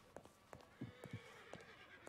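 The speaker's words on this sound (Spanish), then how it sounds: "Escucho caballos." A horse in Red Dead Redemption whinnies faintly over a rhythmic clip-clop of hooves, quiet and fairly distant, with a few sharp hoof thuds along the way.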